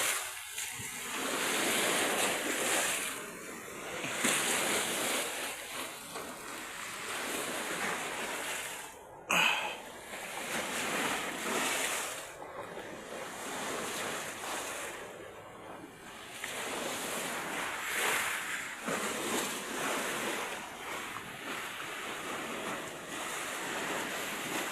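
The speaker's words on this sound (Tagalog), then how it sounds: "Galit talaga yung dagat kapag binibidyohan natin dito" Rough sea waves crash and surge continuously, with strong wind buffeting the microphone and no talking.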